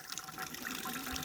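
Water runs steadily into a livestock watering pool on a village farm, a continuous close gushing splash like a tap filling a basin, with no talk over it.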